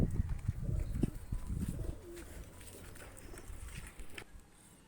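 Pakistani high-flyer pigeons coo softly and low at close range through the first couple of seconds, followed by quieter rustling and faint background noise.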